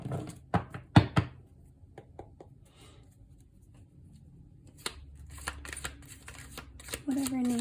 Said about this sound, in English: I've already mixed the cards here and shuffled them, but I'll do one on camera